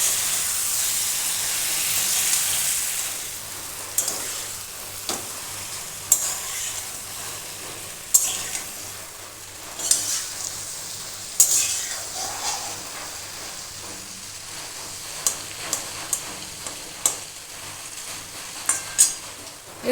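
Potatoes and ridge gourd sautéing together in a pan, a steady hiss and sizzle broken by frequent sharp clanks of a spatula striking the pan, with no talking.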